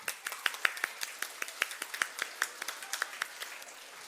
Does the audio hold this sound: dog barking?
no